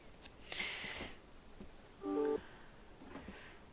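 A phone that has just been switched on lets out a few short electronic notification tones, quiet and spaced apart, with faint rustling between them in a quiet room.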